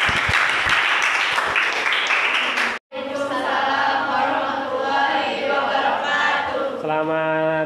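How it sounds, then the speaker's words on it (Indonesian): Vocational school students in a classroom clap briefly and sharply, the burst cutting off abruptly, after which voices speak and sing together in a loud group. "Oke, tepuk tangan untuk semuanya."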